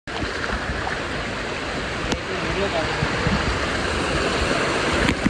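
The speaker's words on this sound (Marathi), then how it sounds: "परत आलोय त्या धबधब्याजवळ." A waterfall roars in a steady, dense rush of falling water, close and loud, holding an even wash from start to end with a couple of faint knocks.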